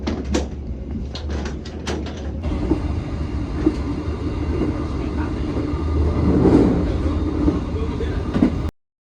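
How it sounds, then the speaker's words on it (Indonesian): Sancaka Utara passenger train standing at Jambon station during an unscheduled stop, a steady low rumble of idling rail cars and engine with clanks and a door-like thud, loud and continuous before cutting off abruptly. "sekarang kereta api Sancaka Utara berhenti luar biasa atau BLB di stasiun Jambon"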